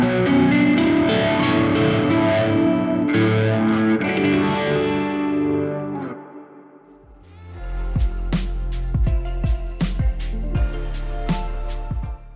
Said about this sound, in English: And here's how this modulated reverb sounds.